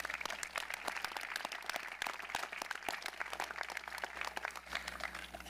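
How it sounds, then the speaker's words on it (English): A graduation crowd in the stands and chairs applauds the Class of 2022 at a North Muskegon high school ceremony, a steady wash of dense clapping that holds at an even level throughout. "I think we should give them a huge round of applause"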